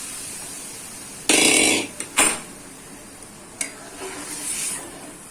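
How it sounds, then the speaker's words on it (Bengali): Dry lentils (dal) tipped into a hot pan for Bengali tetor dal burst into a loud sizzling hiss, followed by a second short sizzle and a few fainter crackles as they settle. "ডালটা ঢেলে দেবো।"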